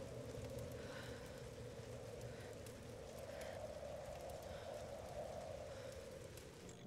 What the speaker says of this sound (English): Very little shelter from the wind and rain here.